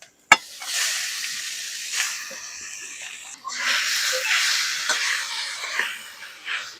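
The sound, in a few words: grated vegetables added to hot tempering, sizzling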